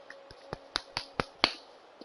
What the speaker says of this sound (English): if you can't tell, that was me clapping